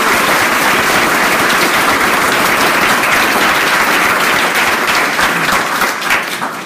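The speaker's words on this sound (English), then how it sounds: "I'd like to ask for applause" Loud sustained applause from the audience at a Doctor of Physical Therapy graduation ceremony for the class of 2019, dense clapping with sharp crackling hand strikes that continues for several seconds before easing slightly at the end.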